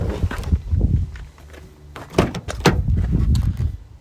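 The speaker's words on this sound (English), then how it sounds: "Pop the bonnet." A 2018 Nissan Navara 2.3 dCi Tekna pickup's bonnet release is pulled, with a few close mechanical clunks and thuds from the cab and front end amid handling noise.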